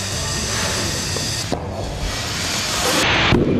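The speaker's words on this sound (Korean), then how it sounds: "갑자기 폭발음을 내며 알루미늄 액이 사방으로 튀는데" Molten aluminium bursts explosively inside a casting mould at a factory making gates, as trapped gas fails to escape: a loud, close hissing roar broken by sharp cracking bursts midway and again near the end.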